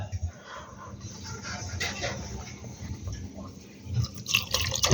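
Water is poured into a homemade mint-leaf juice with amla, ginger and cinnamon, giving a soft, uneven trickle and splash at close range, fairly quiet, with a few brief clinks toward the end.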